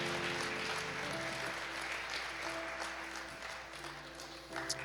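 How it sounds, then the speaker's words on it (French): A church congregation claps and cheers as children enter, a dense, steady wash of applause filling the room throughout, with a brief louder burst near the end. "Acclame pour les enfants qui entrent avec nous."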